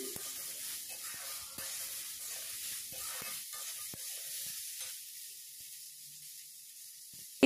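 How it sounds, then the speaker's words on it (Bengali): Chopped tomato and onion sizzle steadily in a pan as they are gently stirred, a soft continuous frying hiss with faint scraping, fading slightly toward the end. "টমেটো কুচি দেওয়ার পরও ঠিক একইভাবে হালকা করে নেড়ে চেড়ে নিচ্ছি।"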